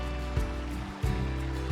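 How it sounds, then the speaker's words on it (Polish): Meltwater of the Inguri river rushing out beneath a huge glacier in the mountains of Georgia, a steady broadband roar of flowing water heard close and continuous with no voices. "To tutaj rodzi się Iguri, rzeka, która zasila połowę Gruzji."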